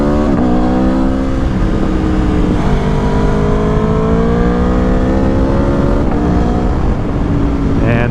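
An Aprilia Tuono V4 Factory 1100 motorcycle on the road, its loud engine note stepping down through several downshifts with falling pitch and brief throttle blips, close and dominant over wind roar.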